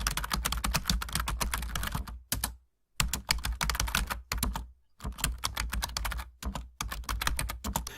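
Rapid, steady keystrokes on a computer keyboard while an equation is entered, clattering in dense bursts separated by two or three brief pauses, close and clear with no voices.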